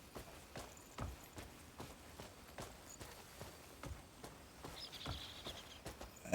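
Horse hooves clip-clopping at a steady walking rhythm in the Crimson Desert video game, distinct evenly spaced thuds with a faint bird-like chirp partway through and no talking.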